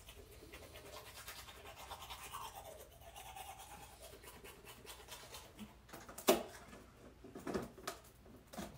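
A rechargeable electric toothbrush hums with a steady close-up buzz for several seconds, followed by a few louder scraping and knocking sounds near the end.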